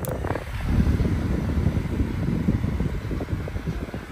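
Electric fan with a brushed motor running, a close steady whirring hum with airy rush and a faint high whine throughout.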